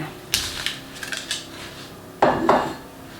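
Marble cake batter is stirred in a bowl, with a few sharp clinks and scrapes of utensil against the bowl, close and fairly loud, in brief uneven bursts.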